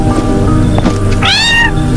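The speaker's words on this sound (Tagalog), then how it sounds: "Parang mukhang ligaw na pusa yung hawak mo." A stray cat meows close and loud, giving a few short chirps and then one longer, rising and falling meow over a low background hum.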